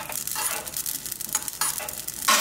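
Whole spices, cloves among them, dry roasting in a pan for a chicken semi-gravy, giving a close, steady crackle and sizzle with scattered popping bursts and no voices.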